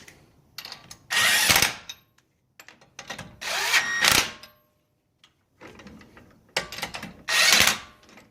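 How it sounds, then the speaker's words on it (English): Impact wrench fastening lug nuts on a car wheel fitted with a fender roller, three loud hammering bursts about a second each, separated by pauses with small clicks and handling noises, close by. "I am going to be using my impact just to fasten them down"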